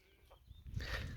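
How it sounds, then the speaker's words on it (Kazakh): Chickens clucking in a farmyard at a highland summer pasture, near a hand-built reed pen. The clucks are faint and distant at first, then grow louder and busier toward the end. "Тауықтар ана жақта жүр."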